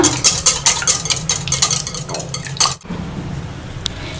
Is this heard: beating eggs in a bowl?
yes